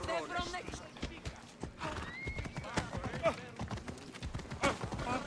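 Horse in the game Assassin's Creed Odyssey, with hooves clip-clopping in a busy rhythm and whinnies rising over the steps, while someone talks over it for much of the time.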